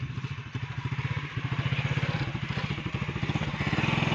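A motorcycle engine chugs in a rapid, steady rhythm of low thumps, close and fairly loud, holding an even pace for a few seconds without any talk over it.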